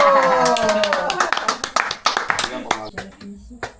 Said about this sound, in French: il va t'applaudir